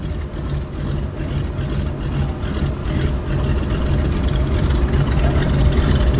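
A floatplane's round radial engine runs at the Vancouver float base, a deep throbbing drone that grows steadily louder over several seconds, heard alone.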